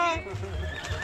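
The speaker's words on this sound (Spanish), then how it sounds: "¡No, está bravo el pinche caballo ese!" A horse neighs loudly nearby during a cavalcade in Uriangato, with a crowd shouting over it and hoof clatter in the background.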